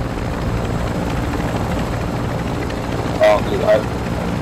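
Helicopter in the Call of Duty: Modern Warfare II video game, a steady low rotor drone running throughout under game noise, with a brief spoken exclamation and a couple of short electronic beeps near the end.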